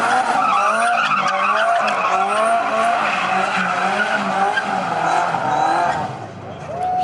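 Loud sustained tire squeal from a car doing a burnout at a car meet, a wavering high screech lasting several seconds with an engine droning underneath, fading slightly at the end.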